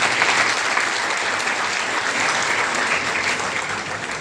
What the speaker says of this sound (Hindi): महिला एथलीट के नाम पे तो ताली ज्यादा मारी आपने।